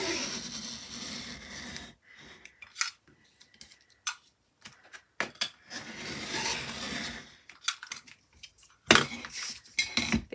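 Paper or card trimmed along a ruler for a handmade journal cover, heard as scattered close taps, scrapes and short cuts separated by quiet gaps.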